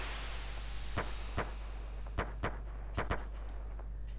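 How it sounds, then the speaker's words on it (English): Festival fireworks in the town of Chrono Trigger: about eight sharp bangs, some single and some in quick pairs, rise above a steady, dense game background hum. "Seems like there's a festival going on in town."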